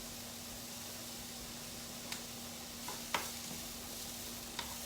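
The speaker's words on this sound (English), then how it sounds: "And so I'm just going to stir this up" Vegan sausage stirred in a pan during meal prep, a faint steady sizzle under a constant hum, with a few soft scraping strokes of the spoon against the pan and no talking.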